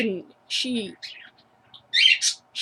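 A small bird gives loud, sharp chirps and squawks in short bursts, close by, with brief pauses between calls.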